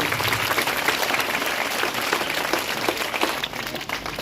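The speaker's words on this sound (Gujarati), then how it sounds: "અરવિંદભાઈ છોકરાઓ તાળીઓથી આપણે સાહેબને વધાવીશું" Schoolchildren clapping for a retiring primary school teacher at a farewell ceremony, dense sustained applause from a crowd, loud and close, continuing without pause before thinning slightly near the end.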